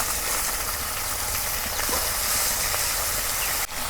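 A pangas fish head fries in a small amount of oil, giving a loud, steady, close-up sizzling hiss that barely changes, with a brief click near the end.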